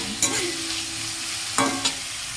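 Potatoes fry with turmeric in hot oil, giving a steady close sizzle broken by a few sharp stirring scrapes and clinks of a utensil against the pan.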